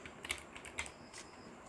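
Computer keyboard being typed on in short bursts of quiet, close key clicks, several taps with brief pauses and no talking.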